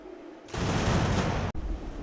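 Cannon fire in the strategy game Ultimate General: American Revolution: a loud, sustained booming roar of artillery begins abruptly after a quiet start, with a brief dropout before the rumble resumes.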